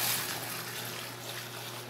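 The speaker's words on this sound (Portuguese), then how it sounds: "Eu vou colocar agora 10 litros de água em temperatura ambiente" Ten litres of room-temperature water pour steadily into a container for laundry with liquid detergent, a continuous broad rushing splash that stays fairly loud and even, with no talking.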